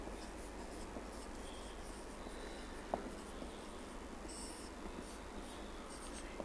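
Steady scratchy strokes of writing on a board during an organic chemistry lesson, continuous and close with a faint tap partway through, over a low room hum.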